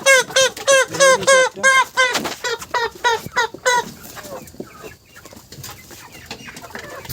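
Roosters and hens in white, red and black plumage squawk and cluck loudly in rapid repeated calls as they are caught by hand, then the clamor fades into softer rustling and scattered clucks.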